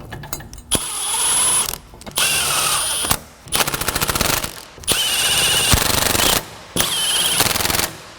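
An impact wrench snugs up bolts on a truck's rear suspension drop, firing in about six loud rattling bursts separated by brief pauses, close and harsh.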